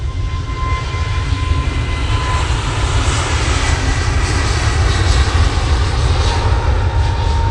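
A steady, loud roar from the engines of an EasyJet airliner fills the whole stretch evenly, a continuous broadband rumble without a break, close by and heard alone without talk.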